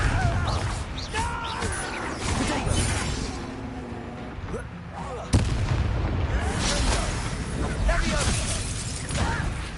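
Confringo blasting-spell explosions in the video game Hogwarts Legacy: repeated booming blasts and crashes mixed with game effects, with a voice shouting over them.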